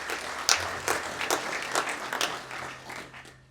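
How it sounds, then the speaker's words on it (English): Steady applause from an audience, many hands clapping together in a dense, continuous patter that fades slightly toward the end. "A big round of applause for this gentleman"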